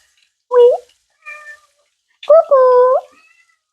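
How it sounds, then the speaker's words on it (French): A pet cat meows loudly and close up indoors, two distinct calls with a short faint chirp between, the last one drawn out. "Mon chat, oui,"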